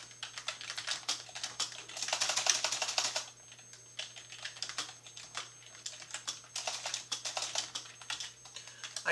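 Someone types on a computer keyboard in quick, irregular bursts of close, crisp key clicks. A brief pause falls in the middle, and there is no talking.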